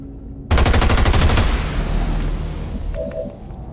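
Loud burst of rapid automatic gunfire in XCOM 2, a fast train of shots opening abruptly then fading into a rumbling tail, with a brief electronic tone near the end.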